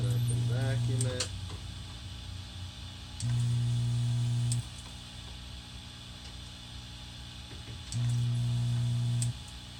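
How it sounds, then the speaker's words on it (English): A low steady electric hum of a vacuum desoldering gun's suction switches on and off three times, each run lasting a second or two, over faint clicks and background noise, during Apple IIc RAM repair. "when you use a vacuum desoldering gun that when you let go of the trigger, you still hear some suction"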